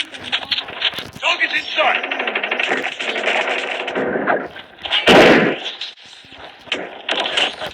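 Rapid submachine gun fire in a shooter video game, with bursts of sharp, punchy shots over busy game sound effects and a loud, dense volley near the middle.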